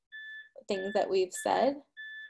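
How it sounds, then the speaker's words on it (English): Home doorbell chiming: a two-tone electronic ring sounding before and after a short spoken phrase, fairly clear in a quiet indoor space. "Hang on, my door is ringing."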